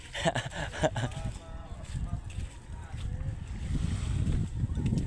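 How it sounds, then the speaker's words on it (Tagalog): Gusty coastal wind roars against the microphone, rising and building toward the end, strong enough to wreck a hut, with a few voices and knocking sounds near the start. "Lakas talaga ng hangin, giba ang kubo eh."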